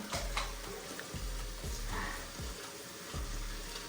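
Steady broadband rush of hot water running from a tap in Bali, continuous for several seconds with a few low thumps underneath.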